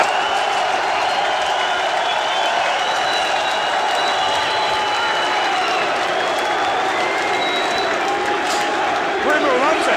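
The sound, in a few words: wrestling crowd cheering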